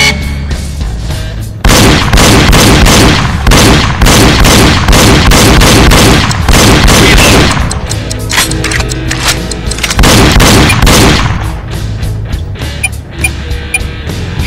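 Double-tap shooting in the Wii target game Reload: loud, close gunshots fired in rapid pairs that repeat steadily over a booming background, with no voices.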